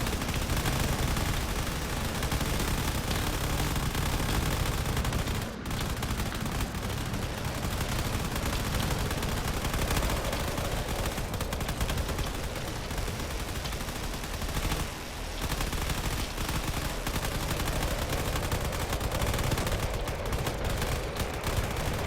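Relentless cannon fire from combat vehicles in Drone Wars, a continuous barrage of dense, overlapping blasts pounding against armor, loud and sustained with only brief dips.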